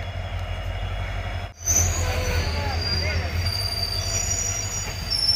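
A train pulls into a station with a steady low rumble and rolling rail noise, faint wheel squeal and clatter over a busy platform, continuous throughout with a brief dip early on.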